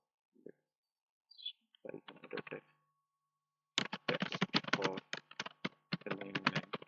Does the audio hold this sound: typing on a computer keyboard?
yes